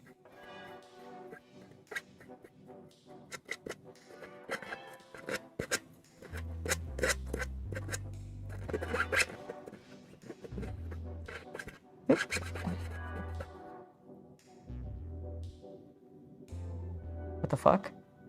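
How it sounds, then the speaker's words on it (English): Sanding a miniature Cadian guardswoman model helmet by hand, heard as bursts of close, fine scratchy rubbing strokes that come and go, with someone talking over parts of it. "Infinite sanding."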